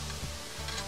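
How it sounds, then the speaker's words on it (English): A short burst of hissing, crackling sizzle from steak on a hot grill, close and steady. "let's get ready to hear this sizzle"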